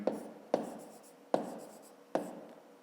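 A pen writes down an answer in a fifth-grade math exercise, making four distinct, close scratchy strokes at a slow, uneven pace with near silence between them.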